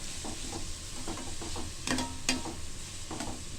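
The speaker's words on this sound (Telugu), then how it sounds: "క్యాబేజీ కొంచెం ఫ్రై అయిన తర్వాత" Cabbage frying in a pan for egg noodles while being stirred, a soft sizzle under scraping, tapping stir strokes, with two brighter clinks near the middle.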